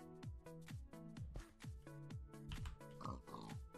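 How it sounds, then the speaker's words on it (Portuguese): Repeated pig oinks from a Minecraft pig in Sky Factory 4, a series of short grunts in steady rhythm over game music, up close and fairly loud. "É o único porco que está aqui."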